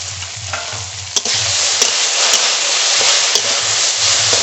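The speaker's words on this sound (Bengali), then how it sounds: "এবার আস্তে আস্তে জাল দিয়ে ভাজবো" Ground spice paste fries in a pan over low heat with a loud, steady close sizzle, while a spoon stirs and scrapes the pan in a few sharp clicks.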